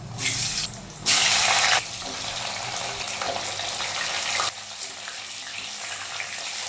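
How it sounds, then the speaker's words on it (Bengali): Elephant foot yam pieces frying in hot oil in a wok, a loud close sizzle with sharp surges as pieces go in, settling to a steadier frying hiss. "কড়াইতে তেল গরম হয়ে গেছে। এইবার আমি ওলগুলোকে ভেজে নেব ভালো করে।"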